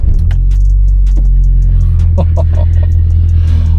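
A 1992 Toyota Celica GT-Four ST185 engine idles with a deep, steady rumble, then revs up briefly and settles back, loud and close throughout.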